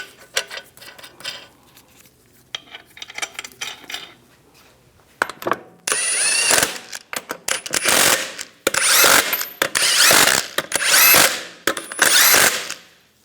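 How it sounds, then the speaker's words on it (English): Lug nuts are run onto the rear wheel of a 2007-2014 Cadillac Escalade with a power tool, which gives repeated loud whirring, rattling bursts, first light and scattered, then heavy, close impact-style runs with short pauses between. "We're going to torque the lug nuts to 140 foot-pounds in a cross pattern to tighten the wheel down evenly"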